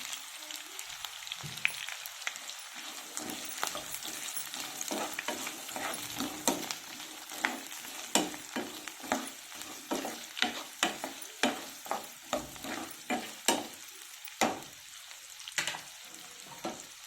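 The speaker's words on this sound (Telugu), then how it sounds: "బాగా ఫ్రై అవ్వాలి. ఇప్పుడు క్యారెట్ ముక్కలు కూడా వేసేస్తున్నాను." Carrot pieces and other vegetables fry in a pan for vegetable pulao, under a constant close sizzle broken by regular scraping stir strokes that grow more rhythmic and pronounced as the stirring goes on.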